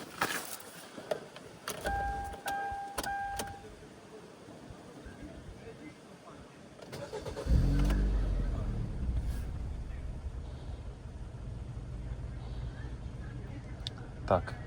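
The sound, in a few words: Kia car engine starting and idling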